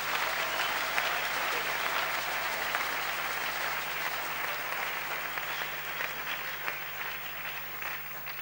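A church congregation applauding during a French-language sermon on Ruth, steady dense clapping and crowd noise that holds for the whole stretch without a break.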